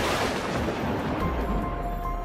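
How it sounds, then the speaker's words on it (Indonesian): A huge explosion sound effect: a dense, loud rumbling roar that stays sustained throughout, with deep low-end weight building toward the end and no voices. "Dan terdengarlah suara ledakan yang amat dahsyatnya."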